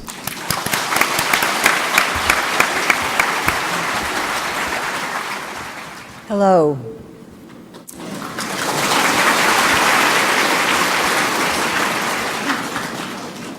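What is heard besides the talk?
audience applause welcoming a speaker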